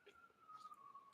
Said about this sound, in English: You can probably hear the ambulance right now.